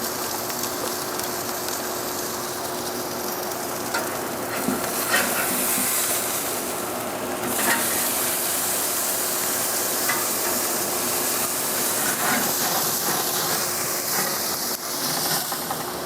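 Meat sizzles steadily on a Primo kamado grill as it is flipped, a continuous close hiss and crackle that holds at an even level with brief bursts of spattering.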